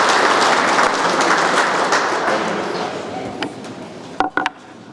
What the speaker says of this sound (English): There hasn't been that kind of applause at recent meetings.